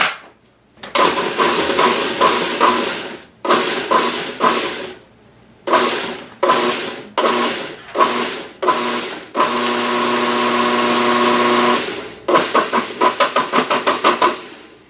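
A countertop blender pulses in short repeated bursts to chop cauliflower for grits, with a few quick stops and starts, one longer steady run near the end, then a rapid series of brief pulses, close and loud.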